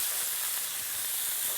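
Filet mignon steaks searing in a hot pan, a steady faint sizzling hiss with no pauses.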